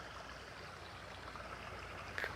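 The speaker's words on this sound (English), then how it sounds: "the water is running" Rainwater after heavy rain runs through culverts in a low, steady gurgling rush, soft and continuous with a small splash near the end, no speech.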